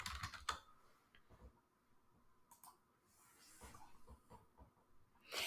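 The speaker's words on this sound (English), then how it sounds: "I'm going to type in client info." Someone types on a computer keyboard, producing faint, quiet bursts of key clicks separated by pauses, heard close and alone.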